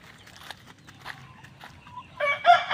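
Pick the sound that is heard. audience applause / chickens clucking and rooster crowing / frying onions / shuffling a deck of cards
chickens clucking and rooster crowing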